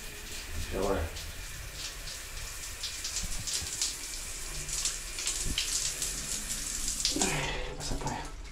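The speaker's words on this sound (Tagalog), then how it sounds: "Shower yan." Water runs from a shower in a farm comfort room built mostly from reused materials, giving a steady close hiss and splash throughout, with brief voices now and then.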